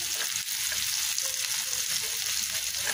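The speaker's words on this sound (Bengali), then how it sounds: "চিংড়ি মাছগুলো কষিয়ে নেবো, তাই এখানে তেল দিয়ে দিয়েছি আর পেঁয়াজ রসুন দিয়ে দিয়েছি" Onion and garlic fry in oil, ready for prawns to be added, with a continuous close sizzle and hiss that stays even throughout, no voices.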